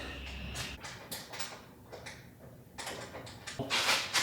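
A ball-jointed trim piece pried off a Tesla Model Y with a flathead or trim tool gives scattered close plastic clicks, creaks and scrapes, ending in a louder rustle as the part comes free.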